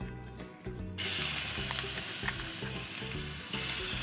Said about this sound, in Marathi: मी एक मोठा चमचा तेल टाकलं आहे त्यामध्ये मी जी ही पेस्ट बनवली होती जी मी दाखवली होती पहिले लसूण मिरची आणि जिऱ्याची ती मी परतवून घेते